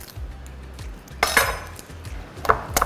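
A knife chops peeled garlic cloves on a board, a few sharp, close clicks and knocks in short irregular bursts.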